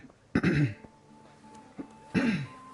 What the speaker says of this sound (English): need to clear my throat there